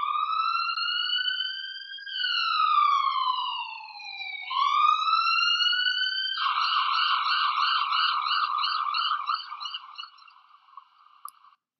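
A siren wails up and down in long sweeps, then switches to a rapid warbling yelp before trailing off; loud and alone.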